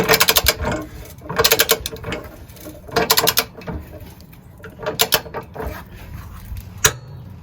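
A torque wrench ratcheting hitch receiver bolts tight to 110 pounds on a van, with several bursts of rapid close clicking separated by short pauses and a single sharp click near the end.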